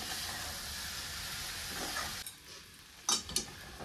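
Egg bhaji with chopped onion, tomato and coriander mixed in a pan, a continuous close sizzle and hiss that drops off partway, followed by a couple of clinks of the spatula.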